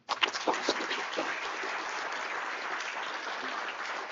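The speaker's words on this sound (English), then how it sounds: "Please give yourselves a huge round of applause." Audience at an everyday heroes awards ceremony breaks into a big round of applause, a dense, even wash of clapping that swells quickly and holds steady at moderate volume throughout.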